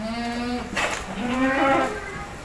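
A goat held still for flu and cough treatment gives two drawn-out bleats, one after the other, loud and close with a wavering tone.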